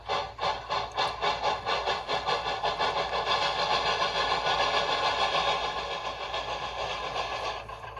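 Shay model locomotive sound from a TCS WOW sound decoder as it gets moving, rhythmic chuffing that starts slow and quickens into a steady, close, moderately loud beat.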